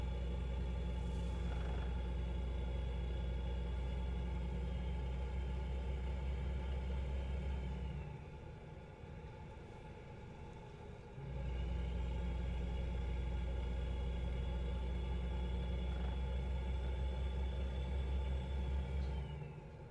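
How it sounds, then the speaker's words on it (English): Car engine accelerating uphill, a steady loud low rumble with droning harmonics that briefly dips and quiets midway before surging back to full strength, close and continuous throughout. "this looks as though we're going uphill and we're accelerating"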